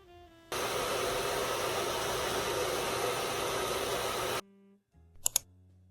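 A hair dryer blows on a short pixie haircut with a loud, steady rushing roar for about four seconds, then cuts off abruptly, followed by a couple of faint clicks.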